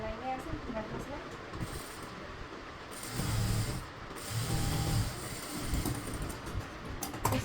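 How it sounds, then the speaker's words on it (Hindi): A sewing machine stitches a 1.25-inch blouse strip for a halter neck blouse, producing a steady mechanical rattle that swells in short bursts, with someone speaking over it throughout. "अब हम इस पर एक सिलाई लगाएंगे ऐसे बैठा सिलाई।"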